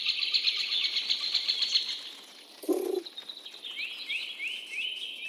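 An owl in the Minecraft video game, heard as a close bird sound: a sustained high chirping trill, a short flutter of wings near the middle, then repeated rising chirps.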